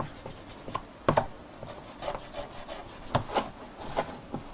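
A rubber eraser scrubs the copper surface of a circuit board for a symmetric variable-voltage power supply, giving close, dry rubbing strokes in an uneven rhythm with a few sharper scrapes.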